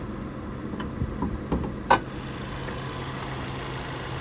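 A Chevy Equinox's 1.5-liter turbocharged four-cylinder idles with a steady low hum, joined by a few faint ticks and one brief click near the start.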